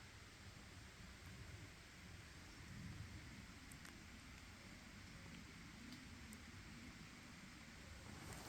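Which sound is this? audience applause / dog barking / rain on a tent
rain on a tent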